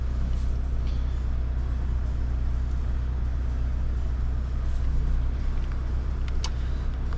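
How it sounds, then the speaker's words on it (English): Renault Megane RS Trophy engine running at a steady, loud idle, a constant low rumble close by with no talking. "confirm the car starts and idles as it should"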